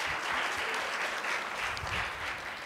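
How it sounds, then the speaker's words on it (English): Audience applause at a film producers' panel, a fairly quiet but continuous spread of clapping hands that rises and falls slightly over a few seconds, without speech. "round of applause for that."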